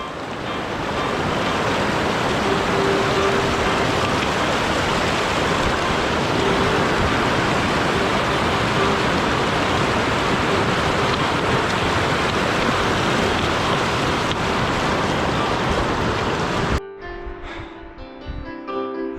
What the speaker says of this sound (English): we got a river crossing to take care of real quick